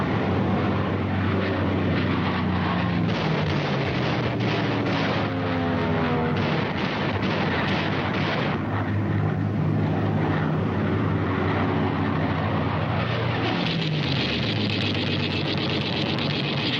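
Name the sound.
WWII American P-40 fighter planes flying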